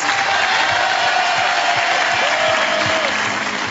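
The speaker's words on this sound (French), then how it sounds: "applaudissements pour lui" A studio audience at a French television show applauds loudly and continuously, with some crowd noise and a held vocal tone running through the clapping.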